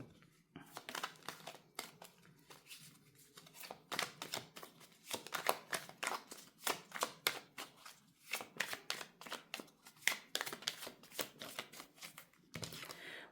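Oracle Belline cards are shuffled close up, with a long run of quick riffling bursts and soft papery flicks in an uneven rhythm, quiet and without talk.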